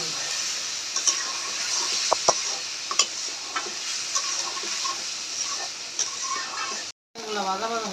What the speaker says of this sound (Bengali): চালটা একটু ভাজা মতো করে নেব।